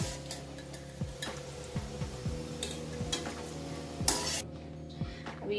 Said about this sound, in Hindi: मीडियम आंच पे इसको एकदम गोल्डन ब्राउन जैसा फ्राई करने का